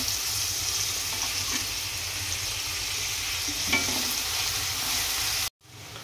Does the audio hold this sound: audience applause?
no